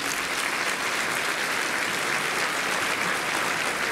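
Audience applauding at a holiday concert by a jazz band with saxophone, double bass and drums, a dense, steady wash of clapping hands filling the hall without a break.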